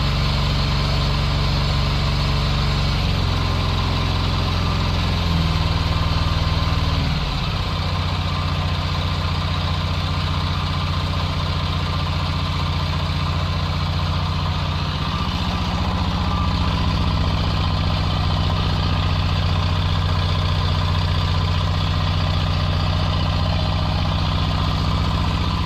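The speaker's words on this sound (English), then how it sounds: "that is an 11 horsepower diesel." Close, steady idle of an 11 horsepower diesel engine on a Simplicity Sunstar tractor, a continuous low chug whose pitch shifts slightly a few times early on before settling, with no talking.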